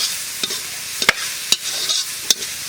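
Leafy greens (Centella asiatica) frying in a pan over a village cooking fire, giving a steady sizzle broken by a few sharp scrapes of stirring.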